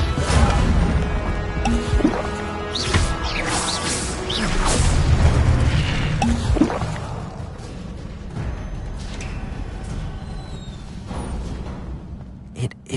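A fire spell bursts with a whooshing, crackling rush inside a Hogwarts Legacy battle, layered over a sustained musical score and busy game effects. It is loudest early on and eases slightly afterward.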